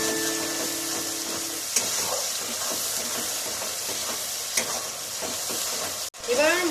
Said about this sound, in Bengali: অ্যাড করে দেবো টমেটো আবার খুব ভালো করে কষাবো